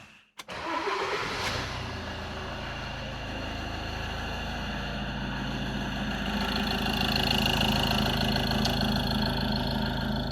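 Peugeot Boxer diesel engine cranking briefly, catching and settling into a steady rumbling idle, close and continuous throughout.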